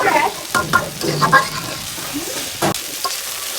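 Rice being fried and sautéed for bhuna khichuri, an uneven hiss of frying with a few sharp scrapes and knocks of a spoon stirring, fading somewhat in the second half.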